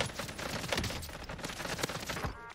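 Rapid bursts of AK assault rifle fire in the battle royale game Warzone crackle close and loud, dense volleys with little pause across the whole stretch.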